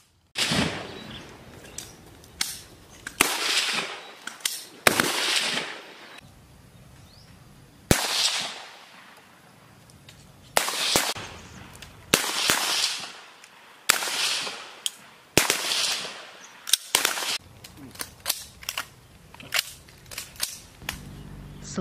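Pindad assault rifles fire during military shooting practice, with sharp, loud single shots and short bursts going off at irregular intervals, each crack followed by a brief echoing tail.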